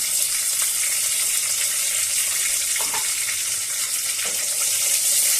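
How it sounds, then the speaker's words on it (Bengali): Dried chillies and bay leaves fry in hot oil for an aloo ghati dish, giving a steady, close sizzle and crackle throughout, with a few faint stirring scrapes and no talk. "এবার আমরা একটু নেড়ে চেড়ে দিয়ে এগুলোকে ভেজে নেব"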